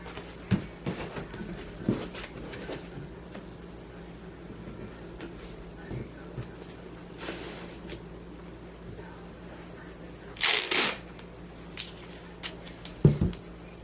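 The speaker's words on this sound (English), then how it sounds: "So I'm going to tape it down." Tape is pulled and pressed down onto cardboard parts of a model house, with a sharp tearing burst partway through and soft handling rustles and taps around it.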